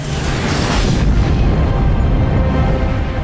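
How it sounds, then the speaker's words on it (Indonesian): A Q-bomb detonates in a sci-fi film, a loud, deep, rolling blast that fills the scene with heavy rumble and sustained roar for several seconds. "Q-bom meledak lalu melenyapkan segala yang ada di sana"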